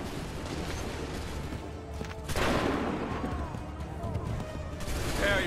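Musket volley fired by a line of soldiers in Assassin's Creed 3 at Lexington and Concord, a loud burst of crackling shots that jumps up midway and rolls on under shouted battlefield commands and din.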